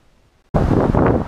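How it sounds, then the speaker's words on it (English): Outdoor wind suddenly bursts into the microphone after a quiet moment, a loud blustery rumble that keeps buffeting without letting up. "It's a little windy. Hopefully, you can hear me."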